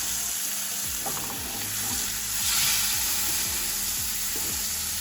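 Tandoori-style lamb chops frying in oil, thicker ones first and then smaller ones added, a steady close sizzle that swells briefly midway, no talking.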